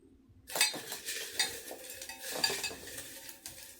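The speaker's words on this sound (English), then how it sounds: "I'm just mixing it up to make sure I don't pull it right back out" Loose folded paper slips are swirled around inside a TBR jar, making a soft, continuous rustling and shuffling that starts abruptly after a short silence and carries on with small scraping surges, close and fairly quiet.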